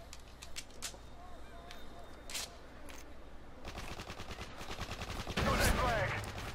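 Hip-fired gunfire in Modern Warfare 3, a capture-the-flag match, with scattered single shots giving way to rapid bursts that grow louder toward the end, under game ambience and players' voices.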